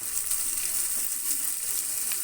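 Chopped onions sizzle in hot oil in a pan with ginger, garlic and green chillies, a steady bright hiss close by with faint stirring and no talk.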